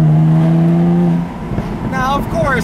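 A 2016 Jaguar F-Type V6 convertible's exhaust, a steady engine drone that drops off on an upshift into a burst of crackles and pops, loud and close, with a voice briefly over the end.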